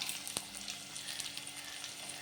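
Curry leaves hit hot oil for a garlic kuzhambu, giving a steady, hissing sizzle throughout with one sharp pop near the start, close by and with no voices.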